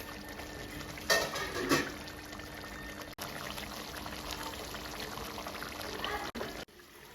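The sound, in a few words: milk being poured into chicken makhani handi gravy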